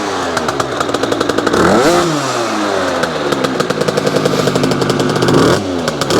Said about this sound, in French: Le beau bruit du deux temps.